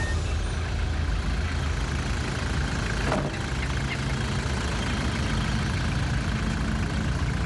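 A vehicle engine idles before a long journey with a steady, even rumble and hum that stays constant throughout, broken only by a brief click near the middle.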